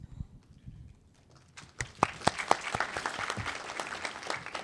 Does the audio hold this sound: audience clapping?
yes